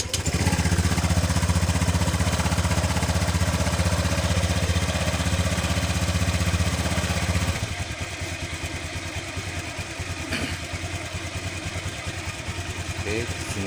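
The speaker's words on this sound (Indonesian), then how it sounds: "di sini saya hidupkan motornya terlebih dahulu" A motorcycle engine started and left idling: a steady, close mechanical rumble with ticking clatter, louder at first, then settling into a slightly quieter, even idle with a few small knocks.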